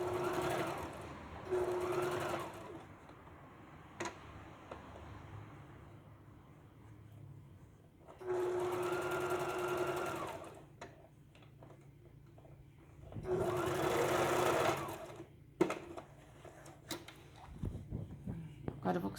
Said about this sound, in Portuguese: Alinhei no centro da peça, venho costurando. Quando chega aqui, faço a dobra e sigo costurando.